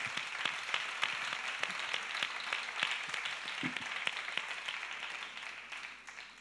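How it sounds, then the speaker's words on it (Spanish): An audience at a talk applauds, with individual claps distinct within a fairly quiet, steady round that lasts several seconds and fades slightly near the end. "Un aplauso para todos vosotros."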